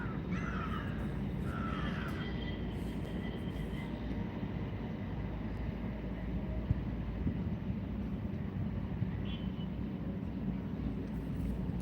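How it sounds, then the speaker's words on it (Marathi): A crow caws a few times near the start, then fades to a continuous low background rumble with little else. "तिथं वरती कावळा बसला होता"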